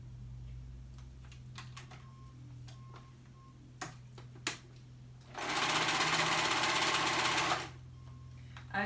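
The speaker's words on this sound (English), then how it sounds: "And then we are going to sew that neckband on." After scattered clicks and light handling taps, a sewing machine stitches a neckband onto a dress in one sustained, close whirring run of about two seconds, then stops.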